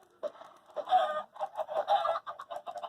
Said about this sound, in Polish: Przestańcie kury tutaj do mnie dochodzić.